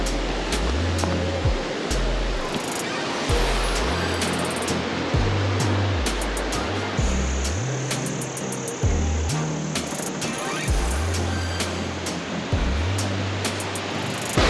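Waterfall on a trek in India pours with a loud, constant rushing hiss close by, with low rumbling bursts and occasional knocks over the top.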